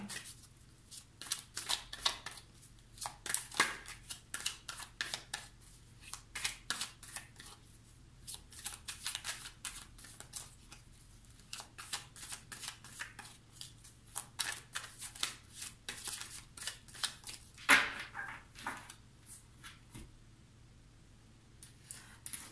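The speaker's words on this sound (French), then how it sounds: "Je vais tirer 9 cartes." Tarot cards are shuffled and dealt onto a table for a nine-card reading, soft repeated riffles and slaps in uneven bursts, quiet and close.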